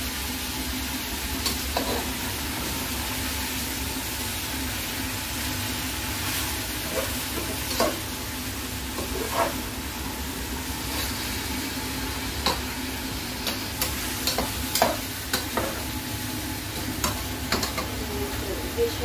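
Salmon head soup cooking in a pan, with a steady simmering sizzle and hiss and scattered soft clinks and scrapes from stirring, no talking.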